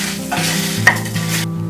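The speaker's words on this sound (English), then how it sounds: "Once the spices are fried well, you can get a nice aroma from them." Spices fry in a pan with an even, close sizzle while a utensil stirs them, giving soft scraping strokes and a brief clink partway through.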